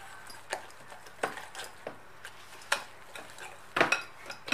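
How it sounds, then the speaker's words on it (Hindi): Eggless pastry batter being mixed with buttermilk in a bowl, giving a quiet series of irregular utensil clinks and scrapes against the bowl with soft stirring between them, close and fairly faint. "सीव करने के बाद इसमें बटर मिल्क ऐड करेंगे और इसको अच्छे से मिक्स कर लेना है।"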